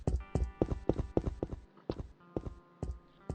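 Running footsteps from a first-person character in a Unity FPS game, a quick steady series of close, crisp thuds on a hard surface, with one brief pause partway through.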